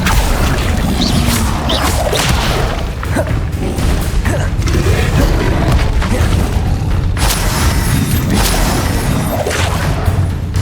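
Spell effects in Hogwarts Legacy, a continuous run of magical booms, whooshes and crackling impacts from Levioso, Accio and Incendio casts, loud and dense throughout with repeated bursts and no talking.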